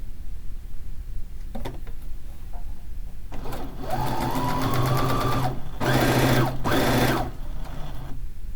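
A domestic sewing machine stitches fish quilt blocks, whirring steadily at close range through two long runs with a short pause between, after a few quiet clicks and handling sounds.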